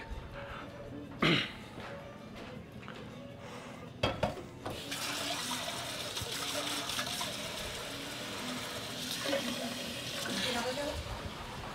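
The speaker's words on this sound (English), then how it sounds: "So I'll fill this one with a bunch of water," A pot being filled with water at a sink during a dry ice photoshoot: a steady rushing stream of tap water runs through most of the stretch, preceded by a few clanks of metal pots and lids, with a brief cough nearby.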